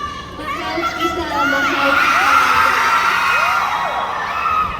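A large crowd of fans at a press conference in Manila yells, whoops and cheers continuously, with many high, excited voices overlapping in a loud, sustained roar close by.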